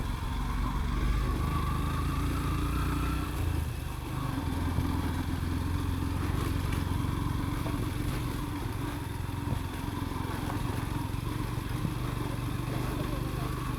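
Geared motorcycle ridden up a mountain road to a peak viewpoint, its engine droning steadily and closely with heavy wind rumble throughout, with faint voices under the noise.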